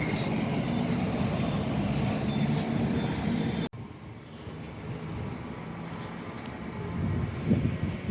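A hybrid test train rumbles past nearby at a station in Tarnów, Poland, a steady broad roar that cuts abruptly partway through, then continues as a softer rolling rumble.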